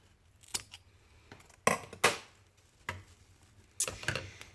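Scissors cut through burlap and twine for a summer wreath, giving several sharp, close snips spaced irregularly, some in quick pairs, in an otherwise quiet room.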